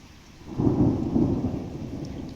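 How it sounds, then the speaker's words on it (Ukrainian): Low thunder rumbles for a couple of seconds over steady rain and small hail pattering nearby, swelling then fading. "Чуєте, як гримить."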